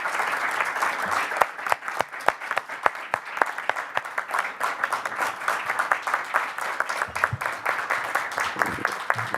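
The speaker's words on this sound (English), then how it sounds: "can we get a round of applause for Coach Brian Deneau?" Sustained applause from a board of education meeting audience for a retiring coach, a steady wash of many hands with a few sharp, close claps standing out over roughly nine seconds.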